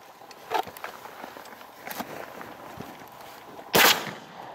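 Pistol shots fired during military arctic training, a few sharp cracks spaced irregularly and at moderate distance, the loudest near the end, over faint outdoor background.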